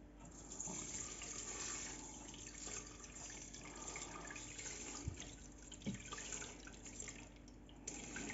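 Water pours steadily into a kitchen machine's bowl while rice is being prepared, a soft continuous rushing splash heard close up and fairly quiet, with a couple of small knocks.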